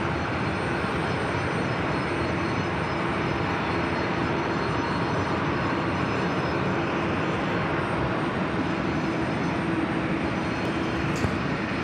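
A WestJet Boeing 737-800 arriving at JFK from Calgary produces a continuous, even engine rumble with a faint steady whine above it, moderately loud and unbroken, with no voices.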